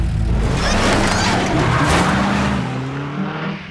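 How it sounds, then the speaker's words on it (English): A cartoon car speeds off with a gorilla at the wheel, a loud sustained engine roar with tire-screech texture that holds steady for several seconds before easing slightly at the end. "either I'm hallucinating or that gorilla just drove off in a car with Alex."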